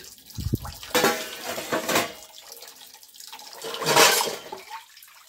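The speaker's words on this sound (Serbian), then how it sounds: "Pustim vodu." Water runs from a tap in surging bursts into a sink while dishes are washed, with dishes clinking faintly; no one speaks.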